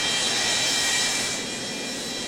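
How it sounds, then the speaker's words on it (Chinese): A Continental Airlines Flight 1713 airliner taxis with all three jet engines running, a loud, steady, close roar that eases slightly after the first second. "在滑行时，飞机的3台发动机都处于启动状态"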